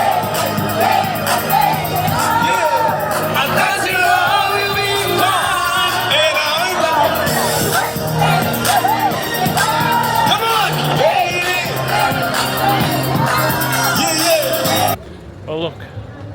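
A large crowd fills a square in Lisbon with loud, dense shouting, whooping and voices, continuous throughout before cutting off abruptly near the end.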